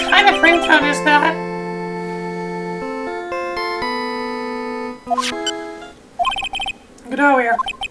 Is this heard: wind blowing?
no